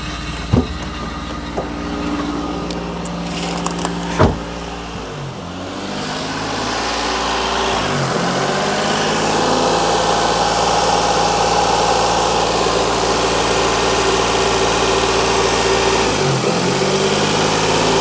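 A Renault Vel Satis engine with a suspected large air leak idles up close in a steady, loud drone. It starts with a few knocks, then the idle rises slightly and holds with a faint periodic dip.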